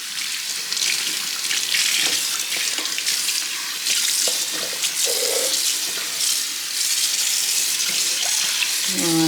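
Makeup sponges rinsed under a running tap, a steady loud gush of water splashing into a sink with small shifting spatters and squeezes throughout, no talking.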